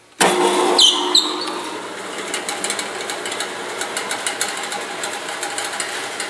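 A New Holland 18 by 18 inch spin dryer starts with a sharp jolt, then runs with a steady mechanical whir and rhythmic rattling that continues evenly without pause.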